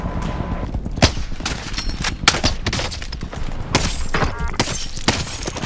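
Loud, rapid gunfire from Warzone 2 combat, with sharp close shots and bursts cracking repeatedly over several seconds and no voices between them.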